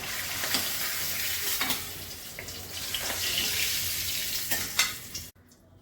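Steady sizzling of hilsa fish frying in hot oil, with a few clinks and scrapes over it, continuous and close, cutting off abruptly at the end.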